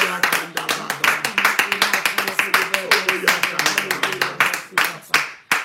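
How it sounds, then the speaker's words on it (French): A church congregation claps in a brisk rhythm during praise, sharp regular hand claps repeating about four per second, loud and close, with voices running underneath. "Nous l'applaudissons et nous l'acclamons très fort"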